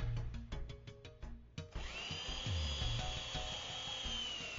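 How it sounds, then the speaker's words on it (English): A power drill with a 1/8 inch bit pre-drills a gate hinge hole: a few short bursts of the motor, then a longer whining run as it bites into the wood. "Then pre-drill the bottom hole using a 1/8 inch drill bit"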